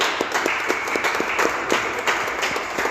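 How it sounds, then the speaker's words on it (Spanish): An audience at a lecture on rodeo and cowboy culture gives a steady round of applause, with dense, continuous clapping at moderate distance and no voices. "les pido por favor un fuerte aplauso aquí al doctor"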